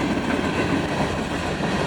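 A freight train carrying rock and manifest cars rolls past in a brief steady rumble with faint wheel clatter, close by and without voices.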